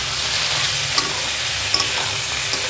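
Dried fish sizzles with onion in hot oil, a steady close frying hiss broken by a few small pops and spatters, with no voices.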